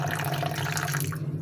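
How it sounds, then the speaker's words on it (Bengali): Water poured into a soy sauce mixture for chilli chicken makes a continuous close trickling splash over a low steady hum, thinning out toward the end. "পানিটা দেওয়া হয়ে গিয়েছে।"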